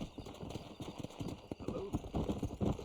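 Horse hooves clip-clop in a brisk, uneven rhythm in the video game Red Dead Redemption, with a voice talking over them.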